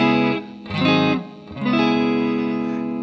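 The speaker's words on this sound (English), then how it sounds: "We can add a little bit of reverb." Guitar played through a cabinet simulator with a little reverb added, sustained distorted chords ringing out in two phrases with a brief dip between, close and loud with no talking.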